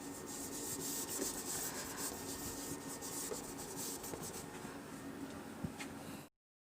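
Pen on paper as a maths definition is written out by hand, a faint, continuous scratchy rubbing with small strokes for about six seconds before cutting to silence.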